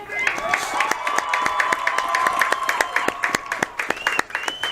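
Crowd at a Colby high school football game cheering and clapping for veterans, dense sustained applause with sharp individual claps and shouts, close and loud throughout.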